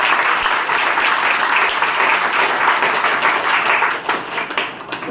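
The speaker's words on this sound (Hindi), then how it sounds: "सभी ने खूब तालियां बजाई" An audience claps loudly and steadily, a dense wash of many hands that holds strong before thinning and tapering near the end.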